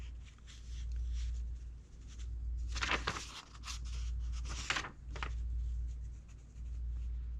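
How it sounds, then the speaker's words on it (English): A pencil scratches across paper, with quick bursts of strokes and short pauses, close and fairly quiet over a low steady hum. "Now I'm going to quickly draw this, hopefully."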